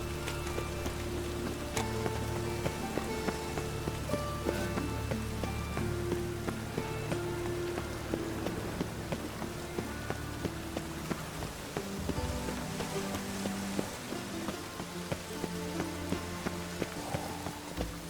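Steady rain falls in The Witcher 3, a dense, constant hiss of drops on surfaces that runs the whole stretch, layered with in-game music and ambience and no voices.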